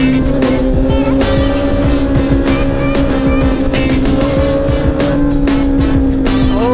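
A Honda CB650R motorcycle fitted with Ohlins suspension is ridden at speed, its engine a loud, close, steady drone with slight pitch swells throughout and no voices.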